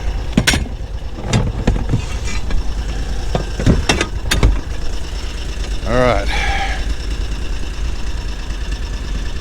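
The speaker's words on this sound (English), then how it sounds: "Got the engine warmed up." A warmed-up vehicle engine idles steadily before a water crossing, a low continuous rumble under scattered clunks and knocks. A voice speaks briefly partway through.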